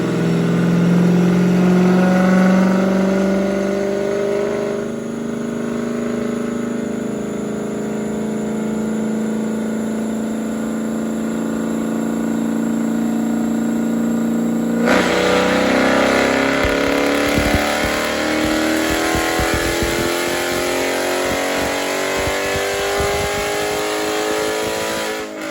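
SRT 300 engine, naturally aspirated without nitrous, revving out to 6,500 RPM on a dyno: a loud climbing mechanical roar that drops away, then rises again with rattling and a sweeping whine.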